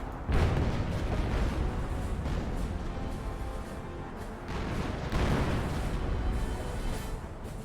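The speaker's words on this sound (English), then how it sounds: "And Hummel's counter barraging." A Hummel howitzer artillery barrage in the Company of Heroes strategy game: dense, continuous rumbling explosions that swell loudly near the start and again later, with no gaps between impacts.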